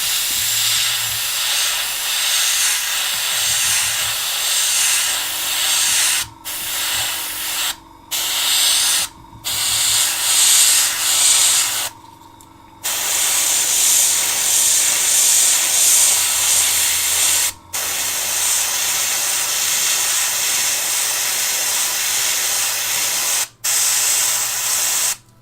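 Aerosol spray paint hissing onto a part of a Tamiya Volvo FH12 1/14 scale RC truck kit, steady loud bursts broken by several short pauses, close by with no talking.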